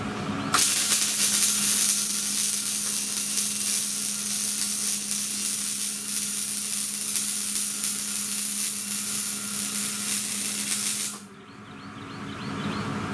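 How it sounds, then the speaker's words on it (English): Continuous crackling, frying-like hiss of a MIG welder laying a hot pass on a steel canopy frame for a Kubota BX23S tractor, loud and steady for about ten seconds before cutting off abruptly to quiet room tone. "when you're welding, you don't pull down on the MIG, you go up, weave it up"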